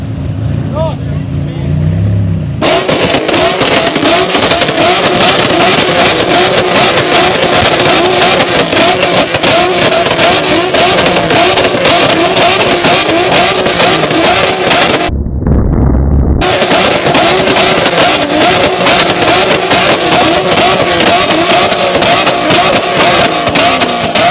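A car engine revs hard and continuously, a loud throaty exhaust roar with rising and falling pitch, briefly cutting out near the middle before resuming.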